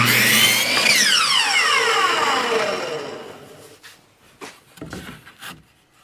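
A power saw cuts a wooden piece to length, with a 30-degree bevel on both sides, for a small pump house roof. A loud whining cut gives way to the motor winding down, then a few quieter knocks.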